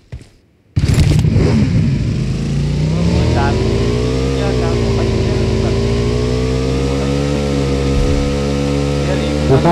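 A motorcycle engine in the mobile battle-royale game PUBG Mobile kicks in suddenly and drones loudly and continuously, its pitch rising and falling slightly as it revs, with players' voices talking over it.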